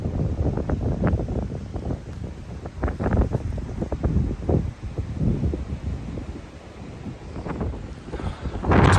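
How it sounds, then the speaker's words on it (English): Strong wind buffets the microphone on a Peak District hilltop beside a waterfall, in loud irregular gusts and rumbling bursts that rise and fall throughout, with no talking. "It's windy up there, man. Proper windy"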